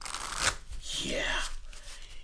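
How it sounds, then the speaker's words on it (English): A GEMACO casino deck of cards is riffled on a tabletop, a close, continuous papery rattle with a brief snap at the start and a sliding flutter through the middle. "Let's do a table shuffle real"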